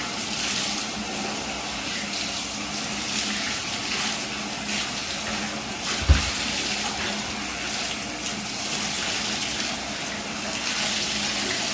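Water runs steadily from a tap over a pair of Crocs shoes being rinsed, a continuous close splashing gush with one brief thump midway.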